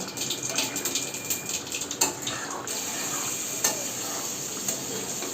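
Pieces of fried fish go into a simmering potato and fish gravy, with a continuous bubbling sizzle and scattered stirring clinks and splashes close by, with no speech.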